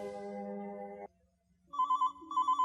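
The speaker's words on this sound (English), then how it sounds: "Just then, the telephone rang." A telephone rings with an electronic ringtone: one sustained tone burst, a short pause, then a pulsing warble of repeated beeps, clear and close with no talking.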